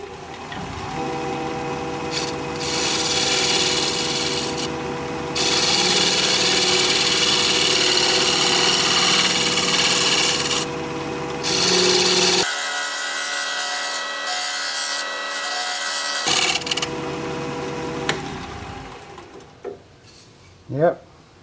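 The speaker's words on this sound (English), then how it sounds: "I love it when I can turn at a higher speed like that." A steady, high-pitched whirring hum of a wood lathe spinning fast, with rough scraping as a tool cuts into the wood, pausing briefly before resuming.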